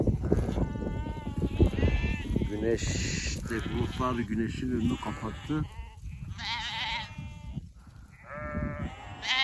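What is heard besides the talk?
flock of sheep and lambs bleating while grazing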